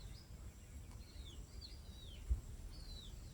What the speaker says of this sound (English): The bushlark sounds.